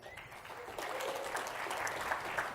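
Quiet applause from an audience at a real estate professionals' gathering in Palm Springs, thin clapping that swells slightly partway through and continues as a soft background patter.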